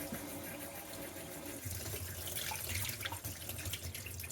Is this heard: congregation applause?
no